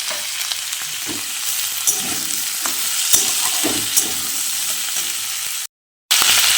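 Beetroot, carrot and potato pieces fry in a pan and are stirred, producing a continuous sizzle with scraping stir strokes, followed by a brief silent gap and then the sizzle again.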